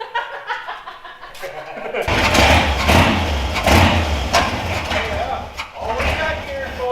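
An old Willys Wagon's engine starts abruptly with a burst of noise and then settles into a rough, uneven idle, while people talk over it.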